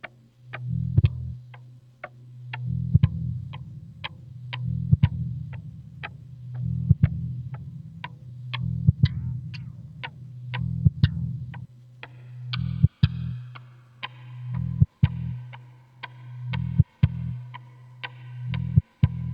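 An electric guitar plays through stacked delay pedals and reverb on an HX Stomp, with a sustained low tone pulsing under sharp rhythmic ticks. Repeating echoes wash and build toward the end.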